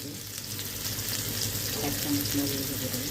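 Steady crackling sizzle of tomatoes frying in a pan, with a faint tonal hum partway through and no talking.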